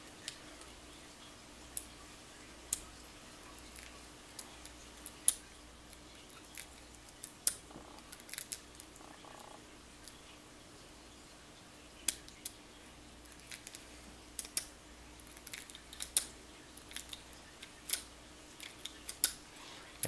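A Master Lock 570 padlock is zipped open, giving a quiet series of sharp, irregular metallic clicks and ticks scattered over a faint steady background.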